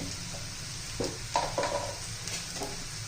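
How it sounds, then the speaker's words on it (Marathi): Onion-garlic masala, red chilli powder and salt frying in hot oil in a pan for a moong dal and onion dish, giving a soft steady sizzle broken by a few stirring scrapes and light utensil clinks. "सर्वात व्यवस्थित घालून घेऊया तेलामध्ये मसाले परतून निघाले पाहिजेत"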